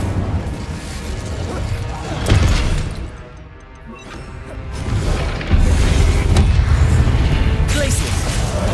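Incendio fire spell cast in a Harry Potter video game, loud layered booms and crashing blasts that swell, dip briefly, then surge again into a sustained roaring burst.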